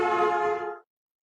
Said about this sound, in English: The horn to you might sound something like this.